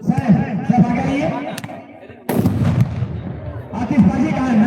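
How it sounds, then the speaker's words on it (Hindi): Fireworks going off at an outdoor volleyball tournament final, with several sharp, loud bursts cracking through amid a busy crowd and voices talking. "आतिशबाजी का नजारा पेश करते हुए"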